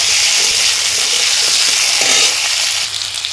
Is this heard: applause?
no